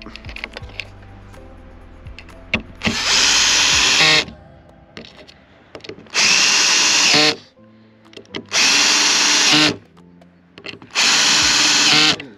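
A power drill drives screws into solar panel mounts on a van: four loud, steady bursts of about a second each, with quiet pauses and small handling clicks between them.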